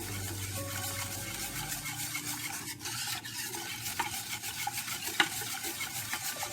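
Cocoa cake batter being stirred over heat until it thickens, a steady close scraping and bubbling sizzle with a few soft clinks, no talking.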